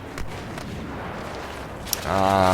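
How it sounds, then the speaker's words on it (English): Grenades launched in Star Wars Battlefront, heard as a continuous booming barrage of blasts and gunfire, steady and fairly loud, with a sharp pop near the end and a tonal game sound swelling at the close. "I'm gonna shoot off some grenades"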